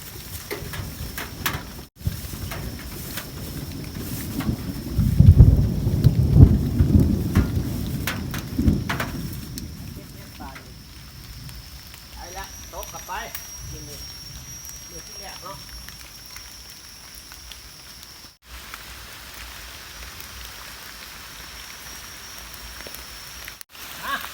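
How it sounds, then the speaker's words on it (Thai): Rain patters steadily outdoors during a mushroom-picking outing. A deep, heavy rumble of thunder swells early on, then fades to quieter rainfall with scattered small sounds. "นี่แต่ฝนทั้งนั้นเลยครับ"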